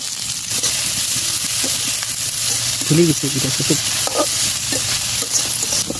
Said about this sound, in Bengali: তেল পেঁয়াজগুলো ভেজে নেব।